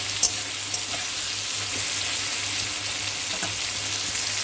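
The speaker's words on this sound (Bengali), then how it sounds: "পটলটা নুন আর হলুদ দিয়ে ভালো করে একদম ভেজে নিতে হবে" Pointed gourd frying in oil with salt and turmeric, a steady close crackling sizzle with a couple of faint clinks near the start.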